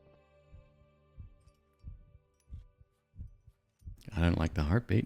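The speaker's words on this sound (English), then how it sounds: "I don't like the heartbeat." A heartbeat sound effect in a roguelike mountain climbing video game thumps in slow, regular low double beats, followed by a person talking loudly over it near the end.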